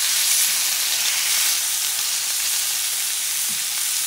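Bison T-bone steak about half an inch thick sizzling in a cast iron pan, a loud, steady, bright hiss of frying with no talk.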